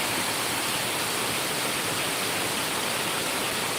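Heavy monsoon downpour with running water in Amboli in the Konkan, a dense, unbroken roar of rain that stays loud and even throughout.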